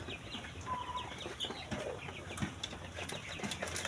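Chickens cluck and murmur softly at a distance, scattered short calls over a quiet, busy farmyard background.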